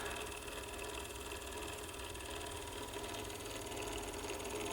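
A 1915 Victor Victrola VV-IV wind-up phonograph turntable spins with a steady, close mechanical hum and faint whirring, running continuously without pause and with no voices.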